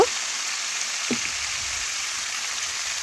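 Eggplant and potato frying with mustard seeds, cumin, turmeric and chili powder in a pan, giving a steady soft hiss and sizzle with a couple of faint clinks, quiet and continuous with no voices.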